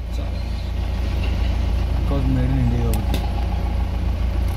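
A truck's large Tata Cummins diesel engine idles with a steady, loud low rumble throughout, and a faint voice is heard briefly in the middle.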